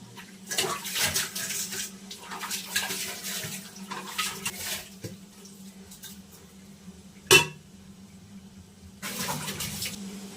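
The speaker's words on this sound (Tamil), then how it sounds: "பாத்திரம் கொஞ்சம் வாஷ் பண்ணிடலாம்." Running water splashes and clatters in bursts as dishes are washed, with dishes knocking together and a sharp clink partway through, close by and without talk.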